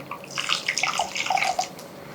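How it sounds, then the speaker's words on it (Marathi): Water poured into a simmering rohu fish curry, a splashing, bubbling trickle with a few brief gurgling pulses, close and fairly soft, with no talking. "थोडंसं आणखी पाणी घालते."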